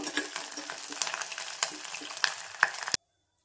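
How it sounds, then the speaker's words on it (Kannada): Curry leaves crackle and spit in hot oil in a pan, a dense steady sizzle with sharp pops scattered through it. The sound stops abruptly near the end and leaves silence. "ಕರ್ಬೇವಿನ ಸೊಪ್ಪು ಹಾಕ್ಕೋತಾ ಇದ್ದೀನಿ. ಇದನ್ನು ಚೆನ್ನಾಗಿ ಹುರ್ಕೊಂಡು ಇದು ಗರಿ ಆಗಬೇಕು."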